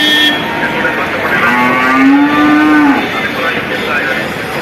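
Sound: buffaloes and calves mooing at a cattle market

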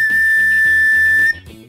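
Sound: whistle candy being blown

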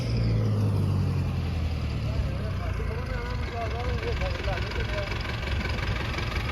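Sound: stuck tractor engine running

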